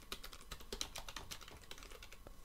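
Steady, fast typing on a computer keyboard, close and clear, with a dense run of light key clicks and no voice over it.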